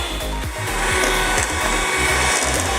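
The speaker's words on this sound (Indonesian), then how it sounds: "Lalu terus di mixer." An electric hand mixer whips eggs and sugar for a traditional cheesecake, a loud steady motor whine with beaters rattling rhythmically against the bowl throughout, no voices.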